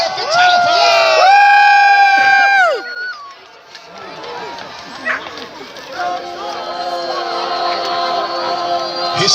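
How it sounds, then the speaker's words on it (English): A crowd at a Battle of Hastings reenactment cheers and shouts loudly for a charging lone knight, voices rising together, then dropping away before a murmur of chatter, a dog bark and renewed calls build again, with a commentator speaking throughout. "Give a cheer now for the lone knight. Give a cheer for Talifer."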